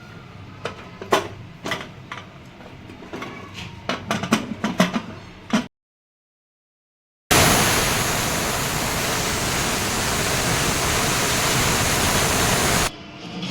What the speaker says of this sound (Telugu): ఇప్పుడు మూత పెట్టుకొని ఒక 5 విజిల్లు రానిద్దాం.